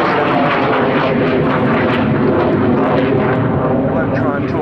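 A Sea Vixen jet with twin Avon engines makes a display pass at Yeovilton, producing a loud, continuous, rushing roar throughout while a commentator talks over it.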